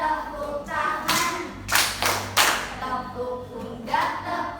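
Hands clapping in a classroom, a few irregular claps mixed with scattered taps, loud and close, with no voices.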